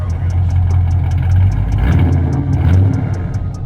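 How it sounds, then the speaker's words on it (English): A car engine with an aggressive cam idles loudly through its exhaust, a steady low lope with faint rhythmic ticking on top and no talking. "It sounds like it's all cammed up, and it's definitely got an exhaust."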